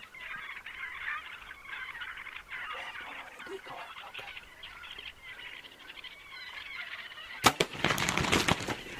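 Wild turkey longbeards gobble and call in a hunting field with decoys set out, a series of rough calls at middle distance followed by a loud, close burst near the end.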